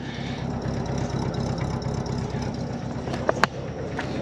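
An old Pontiac straight-eight engine, back running after sitting 51 years, idles steadily in a loud, close, even rumble, with two brief sharp squeaks or clicks near the end.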